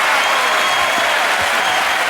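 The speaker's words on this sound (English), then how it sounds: "acknowledge now the cheers of this crowd" A tennis crowd cheers and applauds Rafael Nadal after a match, with dense, continuous clapping and a roar filling the whole stretch, loud and close, and no clear voices above it.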